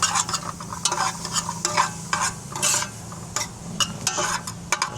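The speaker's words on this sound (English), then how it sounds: "I'm gonna add some garlic and onions to a hot pot." Garlic and onions sautéing in a hot pot give a steady close sizzle, broken by repeated scraping and clinking strokes of a utensil stirring against the pot.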